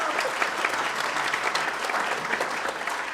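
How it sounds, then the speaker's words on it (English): An audience at a high school Christmas concert applauds steadily, a dense, even wash of clapping from a crowd in a hall, moderately loud and continuing throughout without speech. "So let's give a round of applause for all the kids that auditioned."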